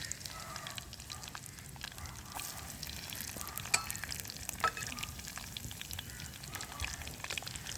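Garlic frying in a clay pot, a faint, even crackling sizzle that runs steadily throughout with small pops, close and unbroken by talk.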